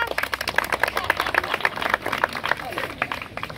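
A crowd at an election-awareness street play performed by school students claps in an uneven burst of many hands, moderately loud and fading slightly toward the end.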